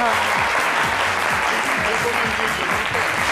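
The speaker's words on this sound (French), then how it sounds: "Bienvenue Neva, que je vous demande d'applaudir très fort." A studio audience applauds loudly and steadily on a French television show, a continuous wash of clapping heard close, with no break.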